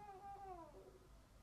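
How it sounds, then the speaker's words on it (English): A cat meows once, a short drawn-out call that falls in pitch, faint and somewhat distant in a quiet room. "That was the cat."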